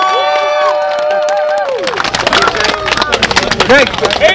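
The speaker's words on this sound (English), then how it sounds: "Everybody, big cheer for Devin!" A crowd at a fighting tournament gives a big cheer for the fighter Devin. Loud sustained shouting and whoops are followed by dense clapping and scattered cries, all close and energetic.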